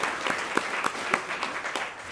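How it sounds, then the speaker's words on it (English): Audience applause for the hosting team at a university epilepsy conference, a steady wash of many hands clapping with scattered sharper individual claps, moderately close and without talk. "give a round of applause to Prof. Jackie and the team from Wits University for hosting us."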